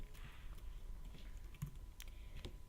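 Steady keystrokes on a computer keyboard while coding, a fast irregular patter of close, light clicks with a few sharper taps, no voices.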